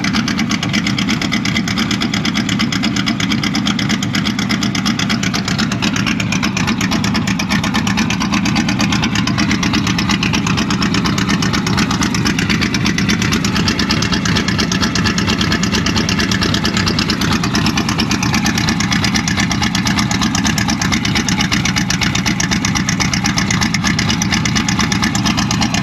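A loud, rough engine of an abandoned 1984 Chevrolet Monte Carlo race car idles steadily and close by, a continuous low rumble with slight unevenness throughout, no voices.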